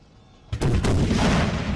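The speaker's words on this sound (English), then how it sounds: "There's a huge artillery battery that's blasting the French too." An artillery battery fires in the video game Napoleonic Total War 3. A sudden loud boom hits after a quiet start and is followed by a second blast and a rolling, sustained rumble.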